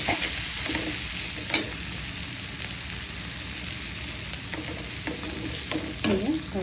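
Bitter gourd with spices sizzles steadily in a pan, a constant close frying hiss broken by occasional scraping stirs and clinks, with no talking.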